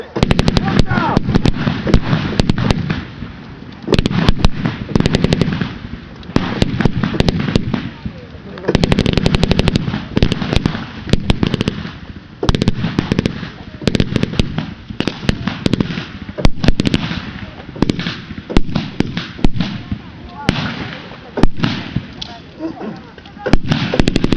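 Rapid machine-gun bursts crackle repeatedly at Westerplatte, loud and close, with sharp popping shots over a busy background of voices and shouting.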